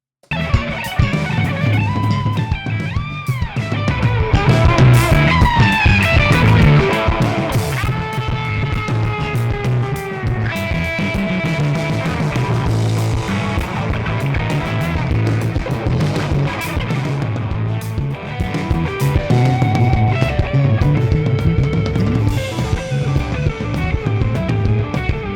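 Dense, saturated music pushed through a Heritage Audio HA1200 tape saturator plugin at full drive, with a thick, distorted, compressed tone that stays loud and steady for the whole stretch, no talking.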